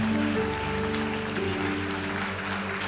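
A church congregation at a Hindi Sunday worship service claps steadily and densely throughout, with sustained musical tones humming beneath the applause.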